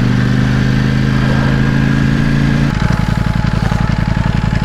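A 2020 Ducati Panigale V4S sportbike engine runs loud and steady, then its note shifts to a rougher, pulsing rhythm partway through as the bike pulls away, with no talking.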